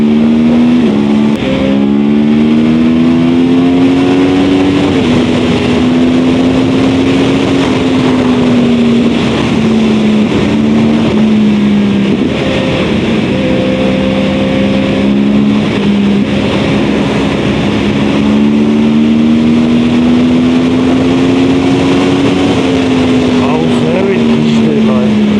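A 2013 Yamaha R1 sport motorcycle runs at high speed, its engine a loud, sustained, close whine whose pitch rises and falls slightly as the throttle shifts across the whole run.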